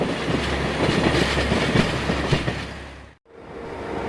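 An X-4300/X-4500 Caravelle diesel railcar runs steadily along the rails with a loud, continuous rumble and rhythmic wheel clatter, cutting off abruptly near the end before resuming.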